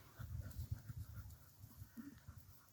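A dog pants in quick, rhythmic breaths after running around outdoors, the huffing close and fairly loud at first, then easing off with softer, irregular breaths toward the end.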